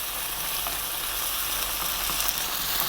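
Chopped vegetables with plum tomato fry on lively heat for a vegan mushroom nut loaf, a steady close sizzle with faint scrapes from frequent stirring, no talk.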